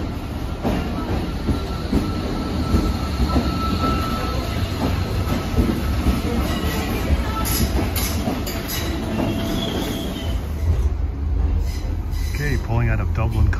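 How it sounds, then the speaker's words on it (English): An Irish Rail Class 8100 electric multiple unit pulls out of Dublin Connolly station, its steady rumble and rolling wheel noise continuous and close throughout, with some squealing and clatter from the rails. "pulling out of Dublin Connolly on board these Class 8100 EMUs"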